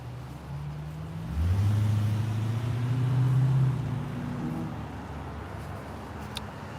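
A few cars drive past on a city street, a low engine and tyre rumble that swells around the middle as vehicles approach and pass close by, then fades back into steady background traffic.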